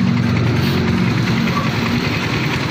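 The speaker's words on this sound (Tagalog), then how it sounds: "30 minutes na naandar yung ating motor." A motorcycle engine idling steadily during fuel injection system cleaning, a loud continuous low rumble.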